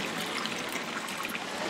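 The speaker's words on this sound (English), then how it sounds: "The water flowing here is tap water" Tap water pours and splashes continuously in Rome's Trevi Fountain, a dense, even rush of falling water heard up close without pause.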